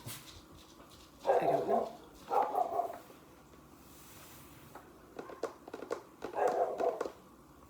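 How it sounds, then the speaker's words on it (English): A dog barks outside in three separate bursts, moderately loud and somewhat distant, with faint indoor room tone and a brief spoken voice between them. "That's who the dog is barking at."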